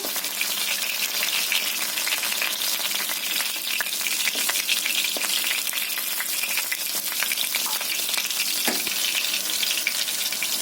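Potato and pointed gourd pieces frying in hot oil, a dense continuous sizzle with occasional crackles and stirring scrapes, close and steady, with no voices.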